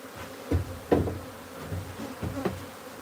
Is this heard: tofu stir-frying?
no